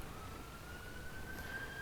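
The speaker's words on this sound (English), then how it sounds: "Sorry about the siren." A siren wails steadily at mid-distance behind a tank battle game, a sustained rising tone holding throughout with no talk over it.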